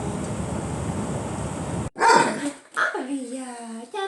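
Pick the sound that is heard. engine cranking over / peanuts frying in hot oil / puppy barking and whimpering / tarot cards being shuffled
puppy barking and whimpering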